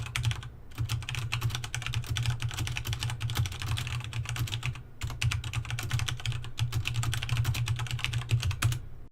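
Fast, steady typing on a Corsair Strafe RGB mechanical keyboard, crisp clicky keystrokes in close rapid bursts with two brief pauses, recorded near a condenser microphone on a cloth-covered desk.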